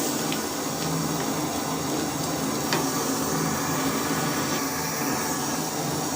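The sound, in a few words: black chickpeas being added and cooked in a sizzling pan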